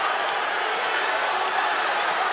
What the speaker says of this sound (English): Ooh, the crowd is loud.